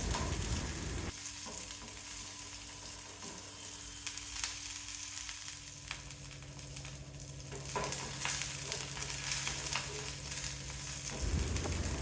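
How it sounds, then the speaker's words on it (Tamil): Onion, garlic and curry leaves sauté in oil in a pan with a continuous close sizzle, broken by occasional stirring scrapes and a low steady hum underneath. "ஒரு கொத்து கருவேப்பிலை, வெங்காயம் பூண்டு லேசாக செவக்கிற வரைக்கும் வதக்கிக்கணும்."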